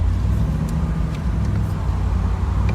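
A 1965 Chevrolet Corvette pulling away from a stop in traffic, its engine a loud, close, steady rumble that builds slightly as the throttle opens, running continuously with no talking.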